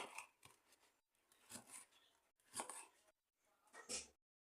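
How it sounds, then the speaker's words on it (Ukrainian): Quiet knife strokes dicing bell pepper on a cutting board, a series of short irregular chops with pauses between them, close and faint, no voices. "І теж нарізаю дрібними кубиками."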